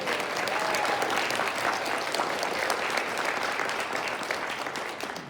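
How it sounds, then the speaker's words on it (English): A town hall crowd claps steadily, a sustained wash of applause that holds for several seconds before tapering slightly toward the end. "Join me in giving Susan a round of applause for all of her hard work."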